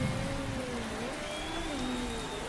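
Steady rain hiss from the Motorsport Manager racing game with the F1 2018 mod, a constant dense wash of drops on a surface, fairly soft with a faint tonal hum beneath.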